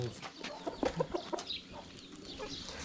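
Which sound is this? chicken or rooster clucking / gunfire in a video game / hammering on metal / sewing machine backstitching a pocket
chicken or rooster clucking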